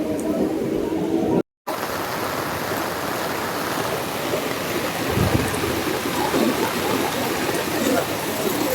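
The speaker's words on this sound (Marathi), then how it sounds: "तुफान पाऊस आणि वीज पण खूप चमकते इकडे" Heavy monsoon rain pours steadily at a suburban railway station in Nalasopara during a storm with lightning, a dense, continuous wash of falling water, loud and near, broken by a brief gap early on.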